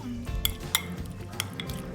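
Cardamom powder and mozzarella cheese are stirred into a mixture with lemon, soft scraping and mixing with a few sharp clinks of a utensil against the bowl, close and quiet.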